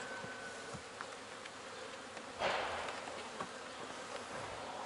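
Soft, continuous buzzing of honeybees close by at a hive, with a brief louder swell midway as one passes near.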